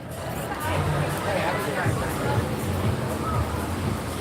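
Crowd chatter on Las Olas in Fort Lauderdale on a rainy day, a steady murmur of many overlapping voices close by with no single speaker standing out.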